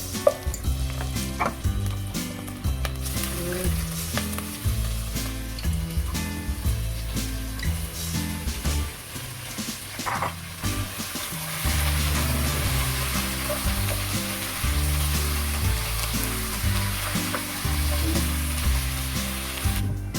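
Chicken sears in a pan for chicken tinola soup, a steady frying sizzle that runs throughout under prominent background music.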